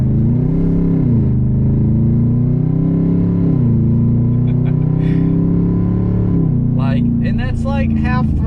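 A pickup truck engine revs at half throttle with a loud, rowdy, sustained roar, the pitch rising and dipping in a few swells, while a person talks over it near the end.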